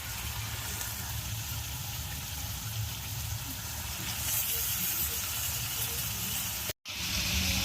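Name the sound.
chicken meat frying in spices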